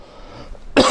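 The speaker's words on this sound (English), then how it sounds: "I'm gonna have to edit this coughing session out." A single short, harsh cough bursts out near the end after a quiet moment, close and fairly loud.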